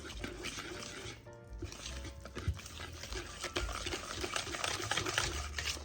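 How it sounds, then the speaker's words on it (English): Pancake batter being whisked by hand in a bowl: a steady close stream of wet clicking and sloshing strokes, growing slightly busier toward the end, with no talking. "Then I'm going to whisk this all up."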